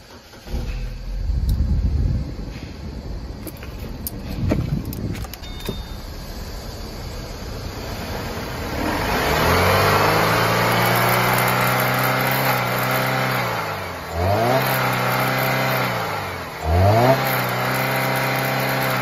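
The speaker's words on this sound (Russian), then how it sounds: "Имеется видеообзор работающего двигателя." A Chevrolet LE9 engine for a Captiva starts after some handling noises, then idles steadily with a clear harmonic hum and is revved up and down in three distinct blips, close and prominent.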